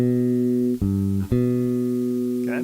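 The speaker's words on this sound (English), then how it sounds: "So we're talking about going from 1 to 3 in the major scale." Sustained tones step upward through a major third in G, scale degree one to three, as clean electronic-sounding notes with brief gaps between them.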